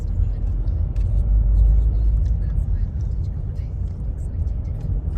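Steady road traffic hum heard from inside a vehicle stuck in a jam, a continuous low rumble of engines with faint higher noises scattered over it.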